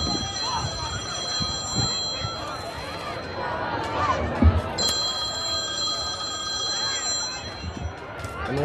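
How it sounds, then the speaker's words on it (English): A telephone rings at a high school football game between Rocket and Capitol Hill, a steady electronic trill running through most of the stretch amid crowd noise and ongoing talk. "the announcer guy's getting a Hello, phone call"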